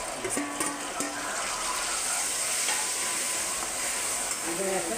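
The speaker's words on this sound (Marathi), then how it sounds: "त्याला जरासं तळू देते" About ten to twelve green chillies fry in a pan with a steady, close sizzle and some stirring scrapes, while a few brief clinks sound near the start and faint tonal sounds near the end.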